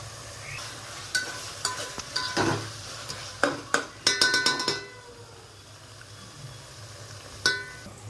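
Chicken biryani ingredients fry in a pan as a steady soft sizzle, while a spoon scrapes and clinks against the metal in irregular bursts of stirring, close and fairly loud.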